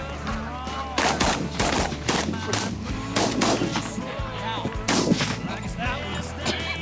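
Shotgun blasts during an early-season goose hunt in Michigan: a volley of several loud, close reports in quick succession, with hunters shouting and geese honking around them.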